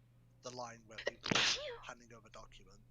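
A single sharp sneeze bursts out loud and close in the middle of ongoing talk, with people speaking before and after it at a tabletop role-playing game session.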